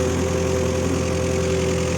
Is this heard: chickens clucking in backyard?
no